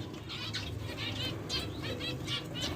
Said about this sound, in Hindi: इसमें सारी मिक्स म्यूटेशंस के बर्ड छोड़े हुए हैं मैंने, होम ब्रीड अल्हम्दुलिल्लाह